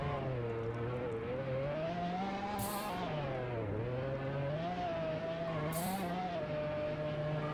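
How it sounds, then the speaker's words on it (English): A Lamborghini Aventador in the Roblox driving game Drive-Shaft, its engine droning steadily and rising and falling in pitch as it accelerates and eases off, with two short bursts of tire hiss. "this Lamborghini is pretty fun"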